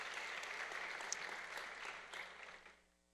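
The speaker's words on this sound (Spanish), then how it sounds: "Si van a aplaudir pueden hacerlo con ganas, ¿verdad?" A church congregation applauds as a steady, dense wash of clapping that holds evenly for most of the stretch, then thins out and fades toward the end.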